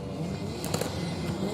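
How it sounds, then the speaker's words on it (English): Modified white Toyota Supra revving hard while struggling for traction at a night Supra club event, a loud continuous engine roar with brief spiky bursts midway. "This white Supra down here has had a fair bit of work done to it and just struggling for a little bit of traction."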